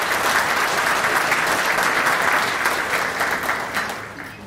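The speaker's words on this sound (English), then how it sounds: "Let's give them a round of applause" Sustained applause from the audience at a city's State of the City address, dense steady clapping filling the room for several seconds before tapering off near the end.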